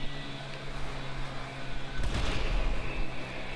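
In the video game GTA Online, a rocket explosion booms with a deep, loud blast about halfway through, following a rumbling backdrop of distant gunfire and engine noise.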